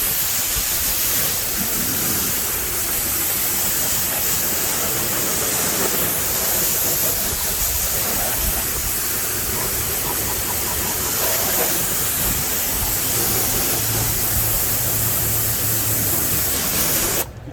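Kränzle 1622 TS pressure washer at 1600 psi blasting water across a car engine bay, a loud, continuous hissing spray with a splattering edge, close and unbroken for the whole stretch, with no talk.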